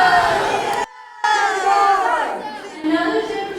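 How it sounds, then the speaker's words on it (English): Crowd of students shouting together in a school play staged for a family day celebration, a loud ragged group shout cut off by a moment of silence, then resuming with raised voices and chatter. "Another general shout."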